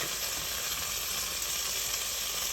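Garlic sizzling in leftover pork chop fat in a pan, a steady, dense hiss and crackle that runs unbroken from start to finish at a fairly soft, even level.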